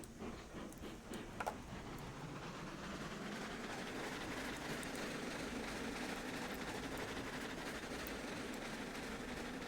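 Steam train climbing a grade in Railroads Online, a steady dense rumble and rolling clatter with a few sharp clicks early on, continuous and close, with no speech.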